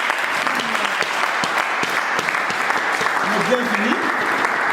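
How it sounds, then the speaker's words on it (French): A standing audience applauds loudly and continuously at a student gathering in Minembwe, South Kivu, the steady clapping filling the space while a speaker's voice carries over it. "Nous allons applaudir fortement."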